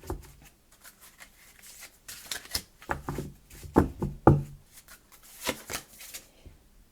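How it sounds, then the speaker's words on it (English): Tarot cards slapped and tossed down onto a table one after another, a series of sharp close taps and soft shuffles spread irregularly over several seconds, with no talking. "Let me throw some of these cards on there"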